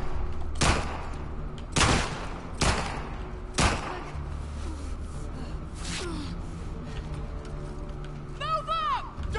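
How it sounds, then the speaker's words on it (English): Gunfire in The Last of Us Part II: several loud, sharp blasts ring out in an irregular burst over the first few seconds, mixed with a gasp and rumbling background, then a brief chirping effect near the end. "Who the fuck is shooting me and where?"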